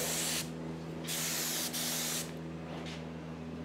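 A spray gun lays primer onto a hammered and dollied car body panel in continuous loud hissing bursts, broken by short pauses between passes, over a steady low compressor hum.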